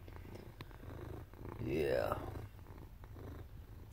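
Low, steady cat purring close by, with a brief rising squeaky sound midway and a short word spoken quietly.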